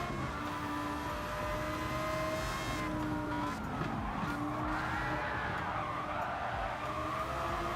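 A Lamborghini Gallardo race car engine in a video game, on the Nordschleife, whines and roars continuously, its pitch rising and falling as it accelerates and shifts, with brief tire screeches in between.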